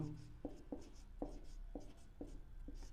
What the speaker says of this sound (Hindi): तो देखो परिभाषा लिखते हैं